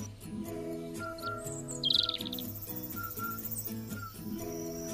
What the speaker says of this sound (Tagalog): Sarap din pakinggan mga huni ng mga ibon.